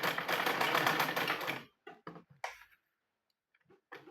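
A sewing machine stitches fabric in a steady, rapid, loud run for about a second and a half, then stops. A few short mechanical clicks and taps follow, separated by silence.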